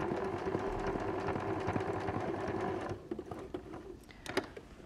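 A sewing machine stitches appliqué fabric for a fox bag in a fast, steady mechanical whir that stops partway, followed by quieter clicks and handling noises as the fabric is pivoted.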